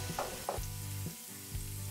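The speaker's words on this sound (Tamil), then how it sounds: "எண்ணெய் சூடானதும் இதுல சின்னதா நறுக்குன 1 டேபிள்ஸ்பூன் இஞ்சி, அதே மாதிரி சின்னதா நறுக்குன 1 டேபிள்ஸ்பூன் பூண்டு ரெண்டையும் சேர்த்துட்டு" Finely chopped ginger and garlic fry in hot oil in a pan, a steady close sizzle broken by a few stirring scrapes, with no talking.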